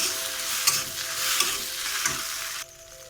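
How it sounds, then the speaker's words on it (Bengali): Spiced potato filling for singara sizzles in a pan while being stirred, with close scraping strokes over a steady fry that drops away abruptly near the end. "দিয়ে ভালো করে এটা কষিয়ে নেব"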